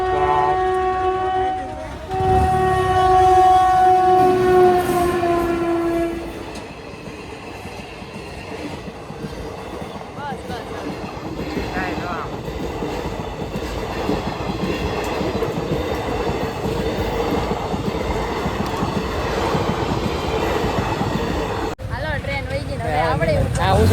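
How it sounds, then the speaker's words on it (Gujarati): A train horn blares at the start, then the rumble and clatter of a passing train continue steadily, with people talking over it. "ટ્રેન આવે છે ટ્રેન ટ્રેન આવે છે ટ્રેન ટ્રેન જો આવી ગઈ છે"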